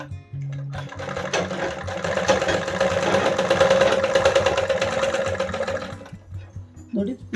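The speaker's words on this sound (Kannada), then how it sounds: "ಇವಾಗ ಸ್ಟಿಚಿಂಗ್ ತೋರಿಸ್ತಾ ಇದ್ದೀನಿ ನಾನು" A zigzag sewing machine stitching nearby, a fast steady mechanical whirr and clatter lasting several seconds before stopping, with someone speaking briefly before and after.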